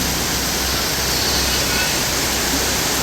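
A thick, unbroken hiss of torrential rain pours down nearby, loud and steady with no voices.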